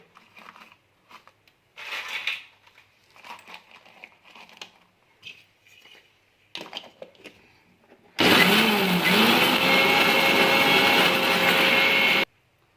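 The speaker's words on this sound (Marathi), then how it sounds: "यामध्ये आता आपण मिरची टाकून मिरची पण वाटून घेणार आहोत" Kitchen mixer grinder grinding green chillies into a spice paste for ambadi leaf pickle, starting abruptly with a loud whirring roar that runs steadily for about four seconds and then stops, after quieter clinks and handling noises.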